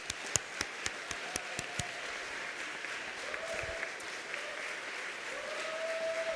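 A church congregation applauds two quilt makers, a sustained wash of hand clapping with a few sharp, distinct claps at the start and faint voices rising underneath.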